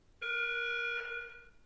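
SCP alarm sound effect previewed in the Roblox creator store: a single steady electronic tone with bright harmonics, holding for about a second before shifting and fading out, heard alone.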